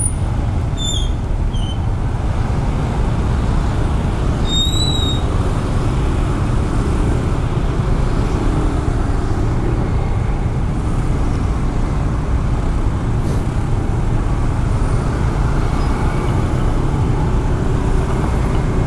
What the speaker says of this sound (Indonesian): Aduh, macet.